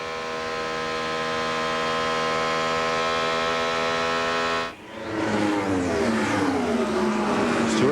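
An IndyCar race car engine at Charlotte Motor Speedway during the 1997 Visionaire 500k: a sustained high-pitched whine that holds steady, then cuts abruptly into a rougher, shifting roar as cars pass, with no voices.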